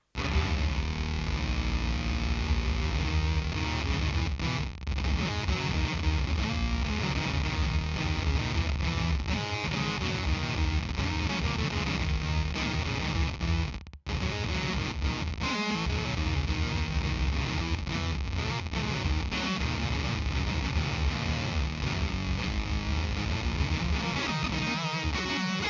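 Detuned unison synth with square-wave subharmonics set two octaves down, playing as a dense, continuous buzzy tone with a thick low end, loud and steady for most of its length with one brief dropout midway.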